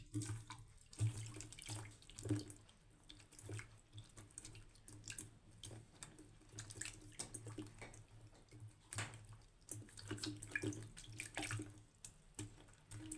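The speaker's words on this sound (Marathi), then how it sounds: "त्याच्यामध्ये पाणी टाकून मी कारले स्वच्छ धुवून घेणार आहे" Water splashes and sloshes in a sink as bitter gourds are rinsed and rubbed by hand, with irregular wet swishes and soft clunks, fairly quiet.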